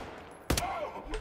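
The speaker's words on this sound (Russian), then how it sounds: "Два выстрела в голову." Gunfire in the shooter game Wolfenstein: The New Order, a sharp double shot in quick succession followed by a fainter report, heard close and loud over quiet game ambience.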